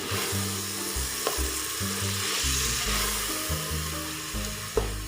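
Yogurt stirred into beef biryani masala in a hot pan, a continuous loud sizzle with rhythmic scraping strokes of a spoon across the pan throughout.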